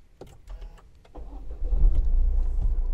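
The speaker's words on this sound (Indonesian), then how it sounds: "Maka mesin akan segera menyala." A Toyota GR Yaris RZ is started with a push button and the clutch pressed: a few clicks, then the starter cranks briefly and the engine catches and settles into a loud, close, steady idle.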